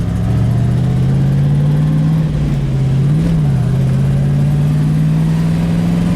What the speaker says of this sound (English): now it's more like an idle.